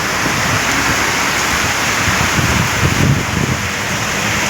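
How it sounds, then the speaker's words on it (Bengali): Heavy rain pours in a continuous loud wash, with a motor van driving through it somewhere in the dense roar, steady throughout with no talk. "দেখেন না এত বৃষ্টির মধ্যে গাড়ি চলছে"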